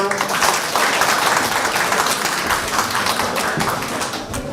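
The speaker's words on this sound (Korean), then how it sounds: "박수 한번 주세요" Applause for the patient model at a men's iron perm hair demonstration, a steady patter of clapping from a small audience lasting the whole stretch, close and fairly loud with some voices underneath.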